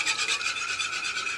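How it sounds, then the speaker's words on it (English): A whisk beating a teriyaki butter mayo dressing in a bowl, fast rhythmic scratchy strokes repeating several times a second, close and continuous with no talk. "Oh yeah, you need to whisk it."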